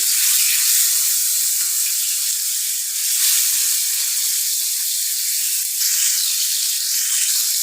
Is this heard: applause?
no